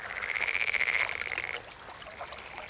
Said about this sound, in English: The water frogs start looking for mates again.